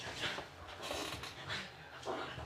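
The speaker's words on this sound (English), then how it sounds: "I'm just gonna grab my dog because she's acting up" A restless dog pants and whimpers close by, with quick, breathy bursts of panting and a few soft whines over a quiet room background.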